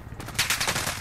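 A rapid burst of video game gunfire, several quick cracking shots in close succession, rings out loud and near.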